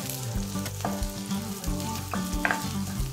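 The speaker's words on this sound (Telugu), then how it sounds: "ఇవి కూడా మనం వేపేసుకోవాలి." Onion pieces sizzling and frying steadily in a pan for a milk fish curry, with light stirring scrapes now and then, close and fairly loud, no voices.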